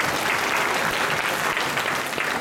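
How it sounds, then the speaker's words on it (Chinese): An audience at an international expo opening ceremony claps for the guests, a dense, steady burst of applause from a crowd that lasts the whole moment. "最后再次掌声谢谢所有与会贵宾"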